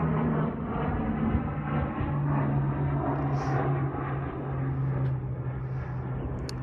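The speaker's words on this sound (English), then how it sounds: "Watching airplanes." An airplane passes over open desert at Whitney Mesa in Nevada, a steady, fairly loud, low droning roar that holds for the whole stretch with no talking.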